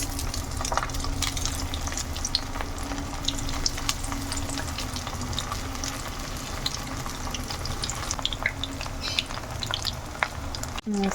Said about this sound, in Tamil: இந்த பன்னீர் வந்து ஆட் பண்ணுறேன். நல்லா வந்து கோல்டன் ப்ரௌன் கலராக ஃப்ரை பண்ணி எடுத்துக்கோங்க